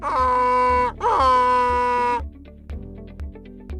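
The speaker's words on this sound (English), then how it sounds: "The donkey says," A donkey brays in two long, loud, strained calls, the second drawn out longer than the first, followed by quiet background thumps.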